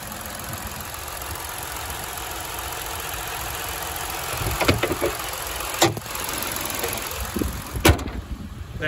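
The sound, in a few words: 2016 Ford Explorer engine idling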